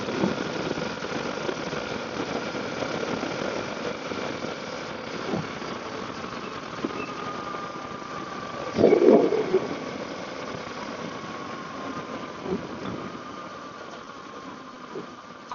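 A Ninja 500 motorcycle engine hums steadily under wind rush while riding on a ride home, a continuous mid-level drone with a brief louder burst partway through.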